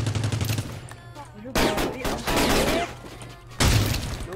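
Bursts of automatic gunfire while shooting at an enemy in the shooter game ROS, rapid close cracks in several loud volleys separated by brief lulls.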